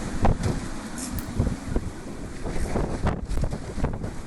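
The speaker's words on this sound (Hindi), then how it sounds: "बर्फबारी के बीच 210 किलोमीटर प्रति घंटे की रफ्तार से चली हवा।" Strong blizzard wind blowing in western Siberia, with gusts reported at 210 km/h amid heavy snowfall; a steady roaring rush buffets the microphone, rising and falling in loud gusts with no voices.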